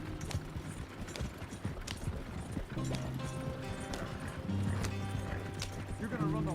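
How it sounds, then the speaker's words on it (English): Horses clip-clop at a gallop in the open-world game Red Dead Redemption 2, a steady drumming of hooves under game music and bursts of talk, with a brief whinny near the end. "You're gonna run the horses to death."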